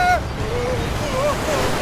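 A cartoon ocean wave rolls onto a beach in an animated children's car-city app, making a steady, fairly loud surf rush with faint whistling tones sliding over it.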